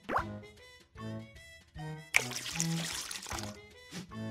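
Orange juice, one cup of it, poured in the Max & Ruby Bunny Bake Off cooking game, a short burst of splashing liquid with plops and drips, set among bright game music tones.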